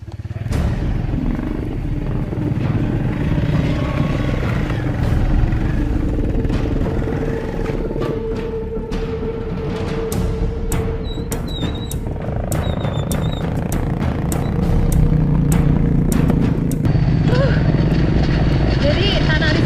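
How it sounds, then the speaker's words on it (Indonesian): Motorcycle carrying cocoa sacks labours over a slippery red-earth dirt road in Suoh, West Lampung, its engine droning steadily and close with clattering knocks throughout, while someone talks over it. "Saya pun ingin mencoba merasakan bagaimana susahnya membawa motor dengan melewati jalan"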